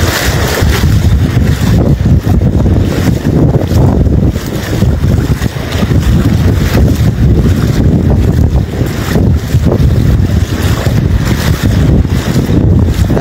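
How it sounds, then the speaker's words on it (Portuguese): South wind blowing hard by the Lagoa dos Patos in Arambaré during high water, a loud, continuous roar of gusts battering the microphone with a low rumble of water beneath. "esse é o vento sul mesmo"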